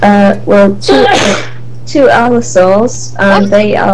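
A single sharp sneeze cuts through a tabletop dungeon-crawl game session, loud and close, with people speaking just before and after it.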